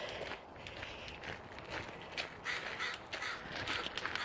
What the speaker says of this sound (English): There's some crows up there.